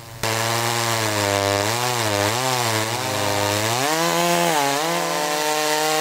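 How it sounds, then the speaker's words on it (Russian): A chainsaw cuts into an old tree at a city cemetery, its engine snarling loud and close in one continuous run, the pitch dipping and rising as the chain bites into the wood, with no voices. "Уже сегодня здесь закипела работа, дерево пошло под пилу."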